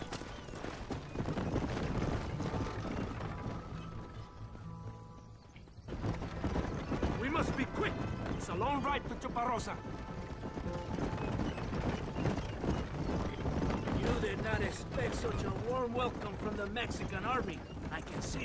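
Horse hooves clip-clopping while riding in the Red Dead Redemption video game on Xbox 360, a quiet rhythmic patter under game music and effects, broken by a short lull before the riding sounds resume.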